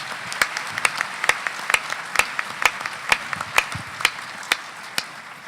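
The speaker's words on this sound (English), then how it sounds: "please give him a round of applause for that invocation" An audience at a swearing-in ceremony gives a round of applause after an invocation, steady overlapping clapping with sharp individual claps popping out at a moderate distance.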